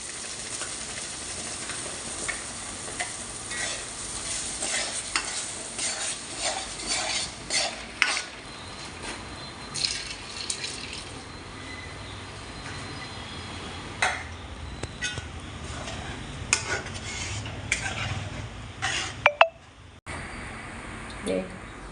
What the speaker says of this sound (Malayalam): നമുക്ക് മീൻകറിക്കുള്ള അരപ്പ് ചേർക്കാവേ